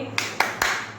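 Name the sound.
hand clapping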